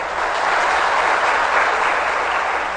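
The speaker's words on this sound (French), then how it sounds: "sous vos applaudissements, s'il vous plaît" An audience at a school competition event applauds to welcome the education minister, a short burst of steady, dense clapping from many hands in a hall, no voices over it.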